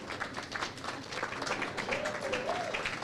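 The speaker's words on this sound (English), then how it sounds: "let's give her a round of applause" At a Florida chapter launch event, an audience gives Sister Margaret Leslie a round of applause, a scattered, moderately quiet clapping that keeps going while a voice talks faintly underneath.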